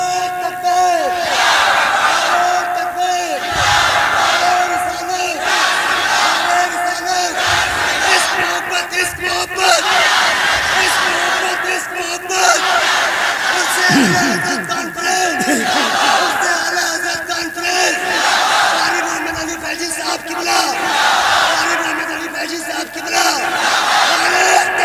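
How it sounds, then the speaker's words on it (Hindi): A large crowd at an Eid Milad-un-Nabi gathering roars slogans in unison, loud sustained shouting with rhythmic bursts repeating every few seconds, filling the space with a dense wall of voices. "वो इस महफिल में जरा नारे तकबीर और रिसालत बुलंद करे"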